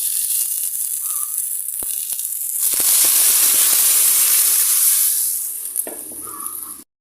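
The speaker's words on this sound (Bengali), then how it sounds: "এখন আমি যতটুকু ঝোল লাগবে এই ঝোলটা দিয়ে দেবো" Broth poured into a pan of fried vegetables, a steady hiss that swells into a loud roaring sizzle as the liquid hits the hot pan, then eases back to a lighter bubbling hiss.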